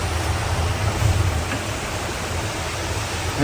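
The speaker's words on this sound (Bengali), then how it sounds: "এই যে বৃষ্টি আবার অনেক জোরে চলে আসছে" A thick, unbroken roar of heavy rain pours down nearby, loud and even throughout with no voices.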